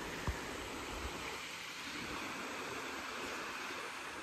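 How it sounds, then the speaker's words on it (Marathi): A flowing river runs beside a stone temple in Kokan, giving a soft, continuous rushing wash that stays faint and even. A couple of small knocks sound near the start, and there is no talking. "नदी आहे, वाहती नदी आहे."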